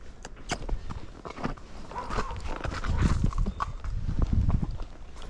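A spotted saddle horse, a gaited breed, steps through shallow puddles, its hooves clopping and splashing irregularly at close range with low rumbling movement and faint handling noise around it.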